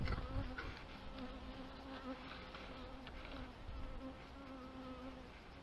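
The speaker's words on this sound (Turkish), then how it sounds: "Arı bak, güzel çalışıyor, görüyor musun?" Honey bees buzzing around an opened hive in an apiary, a constant close swarm drone with individual bees whining past the microphone, no voices.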